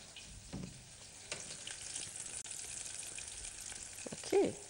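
Onion hits hot oil in a pan while tilapia and traditional vegetables are being cooked, giving a soft steady sizzle with a few stirring clatters and a brief louder burst near the end.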